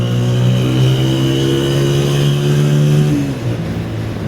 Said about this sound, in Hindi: थोड़ा सा खींच लेते हैं बाइक को।